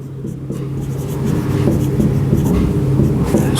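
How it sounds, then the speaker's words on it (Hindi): A pen scratches notes by hand on paper in a biology lesson, a steady close scribbling that runs the whole time. "7वां लिख सकते हैं"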